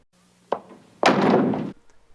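A door bumps once with a short knock, then swings and closes with a heavy thud and brief rattle, followed by quiet.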